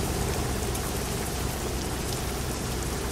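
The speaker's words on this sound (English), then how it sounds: "You know, it's raining." Steady, even rain falling in American Truck Simulator, a dense continuous hiss of drops spread across the whole clip with no voices.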